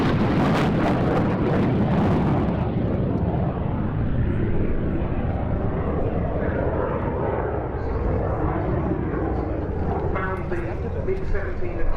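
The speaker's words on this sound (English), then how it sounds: "It's incredible to have this aircraft displaying for us, this ex-Polish Air Force" An ex-Polish Air Force MiG-17F Fresco jet fighter flies an airshow display at Duxford, its engine roaring loudly at first and then fading to a steady distant rumble beneath continuous commentary.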